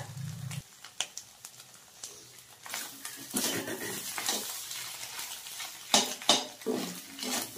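Egg fry being stirred in a pan: a spatula scrapes and clatters against the metal in irregular strokes over a faint sizzle, close by and fairly quiet.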